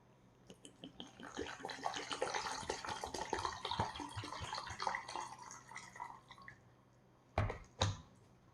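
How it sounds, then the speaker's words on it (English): Water poured into a British ORP Menu 1 military ration bag, a steady close trickle and splash for several seconds, then a pause and two brief crinkling rustles of the bag. "So let's get some water in here."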